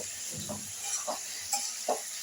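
Green beans and potatoes sautéing in a pan after a nigella seed tempering, a soft steady sizzle with a few gentle stirring scrapes, fairly quiet.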